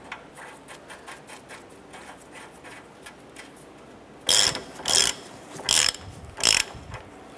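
A hand ratchet tightens the lower ball joint nut on a 2008-2012 Honda Accord, heard as four close, loud bursts of rapid clicking after a quiet stretch.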